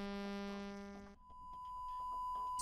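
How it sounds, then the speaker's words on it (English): A synthesized sawtooth wave tone sounds for about a second, buzzy and bright with a steady pitch. It cuts off abruptly and gives way to a thin, pure, higher tone. "Sawtooth wave."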